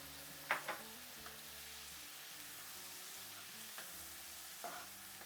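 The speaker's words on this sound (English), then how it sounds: "Gently stir and let simmer over medium heat for 3 minutes." Sichuan mapo tofu with beef simmering in a pan: a soft, steady sizzle broken by a few light scrapes and clinks of stirring.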